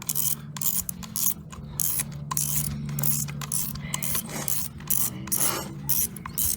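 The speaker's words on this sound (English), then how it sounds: "And then we just hold it down and screw it back on." A rusty fishing reel part is screwed back on by hand, giving close, steady ratcheting clicks and grinding mechanical turns with short scraping bursts, heard alone without speech.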